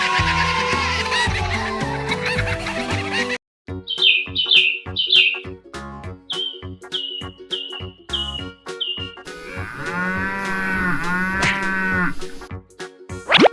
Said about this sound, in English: The herd of cows bellowed.